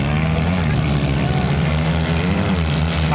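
Enduro motorcycle engine at a local enduro race, a loud, continuous buzzing drone with wavering pitch, close and steady across the clip.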